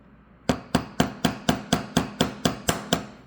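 A hammer striking a spiral wire earring on a hard block, ten sharp metallic taps at a steady, even pace, close and clear with nothing else heard.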